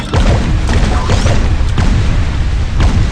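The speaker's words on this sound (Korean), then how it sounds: "펑! 폭탄 맞았죠" A bomb blows up in the video game Bubble Fighter, a loud booming burst with crackling pops sustained across the whole moment, dense and close, with no talk over it.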